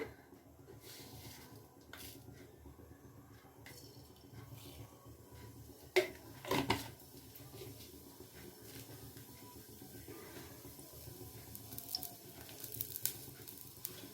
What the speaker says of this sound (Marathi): जिरे तडतडायला लागलेले